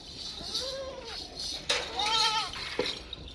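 Goats on a Pakistani farm bleat during milking, two or three wavering calls close by, with faint clinks of a pail in the background.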